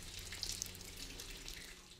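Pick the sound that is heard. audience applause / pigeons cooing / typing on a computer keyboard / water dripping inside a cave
water dripping inside a cave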